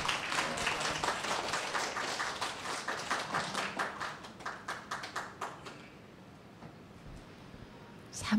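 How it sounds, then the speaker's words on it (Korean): A church audience gives a warm round of applause to welcome the pastor and his wife. Dense clapping fills the room for about five seconds, then thins to a few scattered claps before fading. "큰 박수로 맞이해 주시기 바랍니다"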